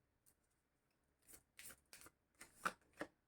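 Tarot cards being drawn from a deck, a handful of short dry papery slides and flicks, close and quiet, spaced irregularly after a near-silent start.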